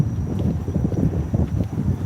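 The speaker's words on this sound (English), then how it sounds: "Sorry about the noise, it's windy tonight." Wind buffeting a microphone outdoors on a breezy evening, a steady low rumble of gusts that swells and dips throughout with no voices.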